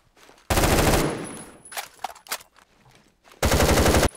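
Two loud, dense bursts of automatic gunfire from a weapon in the video game Phantom Forces, with a quieter stretch of scattered shots and clatter between them.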